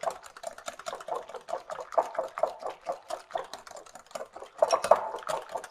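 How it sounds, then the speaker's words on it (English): A whisk beats macaroni salad dressing in a bowl in a fast, even rhythm of light clicks against the sides, close up and without talk. "So whisk that up really well."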